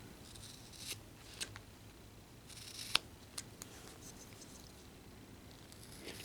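A knife whittles wood for a miniature Christmas winter scene, giving faint, sparse scraping cuts and small sharp clicks over quiet room tone, close and isolated.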